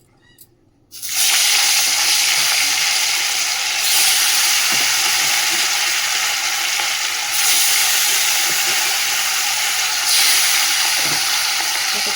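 Fish dropped into hot oil erupts into a loud, steady sizzle that holds for several seconds with slight swells, no talking.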